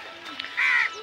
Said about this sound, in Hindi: अब देखिए यहाँ पे कौआ हुआ सब बोल रहे हैं